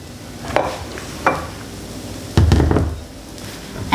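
Pancakes and sausage frying in a pan, a low steady sizzle broken by a few sharp knocks and scrapes from flipping, with a louder burst of frying midway; no one speaks.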